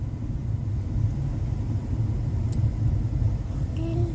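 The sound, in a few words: morning road traffic on a street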